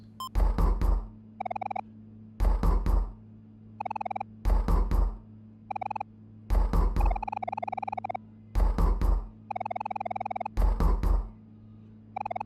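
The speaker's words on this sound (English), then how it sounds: "Waking up, we hear knocking and a message from Mom worrying for us." Knocking on a door in the video game Omori sounds as groups of loud, sharp knocks spaced a couple of seconds apart, with brief tonal sound effects between them.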